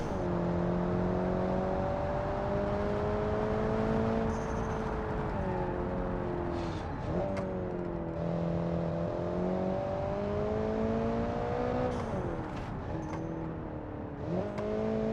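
Sports car in the Automation game driving through a wide turn, a steady engine whine that dips and climbs with gear changes and lifts, moderately loud and alone without talk.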